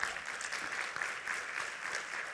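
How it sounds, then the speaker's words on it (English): Conference audience giving a speaker a big round of applause in a hall, a steady, even wash of many hands clapping at moderate loudness throughout, with no talking. "Big applause."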